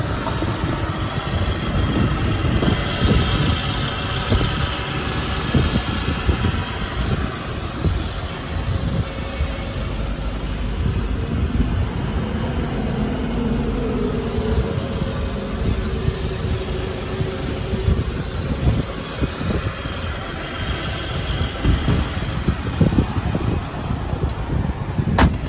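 The 2.0-litre engine of a 2012 Toyota Camry idles under the open hood with a steady, continuous hum and rumble, heard close and alone, without talk.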